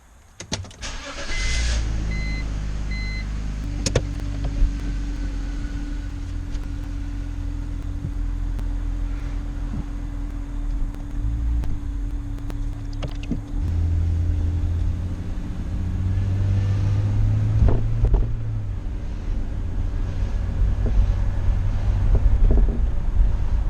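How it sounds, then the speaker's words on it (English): A BMW E46 xi wagon starts up and drives on a road test after front axle carrier and wheel bearing work, its engine humming steadily from inside the cabin with low rumble and a slight swell. "So let's take it for a drive, see if we get any vibration or noises now."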